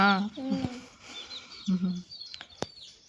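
Young chicken chicks kept at home chirp in high, brief peeps that come and go, while people talk nearby.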